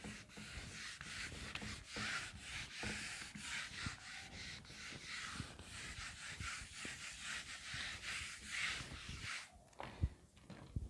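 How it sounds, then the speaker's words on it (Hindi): Steady, continuous rubbing of an eraser or duster across a board during a lesson, a dense scratchy swish running the whole time with brief breaks and a sharp knock near the end. "यहाँ पर मैं एक बार रब कर देता हूँ।"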